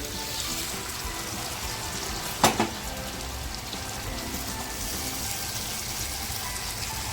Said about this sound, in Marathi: आता पाणी टाकायचं आहे तर मी बघा पाणी टाकते याच्यामध्ये